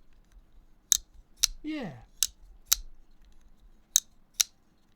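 An Exceed Designs Avair titanium folding flipper knife with an M390 blade snaps open and shut, making six crisp, close clicks at an uneven pace, with one short spoken word between them.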